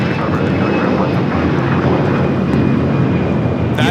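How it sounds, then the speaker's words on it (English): An American Airlines Airbus A321 jet departs for Phoenix from Los Angeles airport, its engines a steady, loud broadband roar that holds unbroken throughout. "That is American Airlines 2073 off to Phoenix on the A321"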